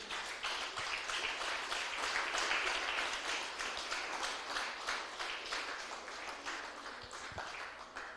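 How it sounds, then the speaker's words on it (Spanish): A church congregation applauds steadily for several seconds, many hands clapping together in a sustained, even wash of sound with a slightly distant, roomy quality. "Den un aplauso fuerte al Señor mío."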